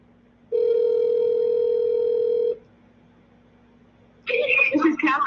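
A single sustained telephone tone sounds steadily for about two seconds, then stops, followed after a pause by a person starting to speak.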